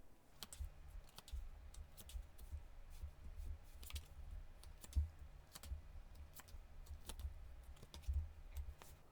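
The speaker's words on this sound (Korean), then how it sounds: "제가 카드 뽑아보도록 하겠습니다" Tarot cards are drawn and handled at close range, with scattered soft clicks, taps and slides of card on card in an irregular rhythm over a quiet room.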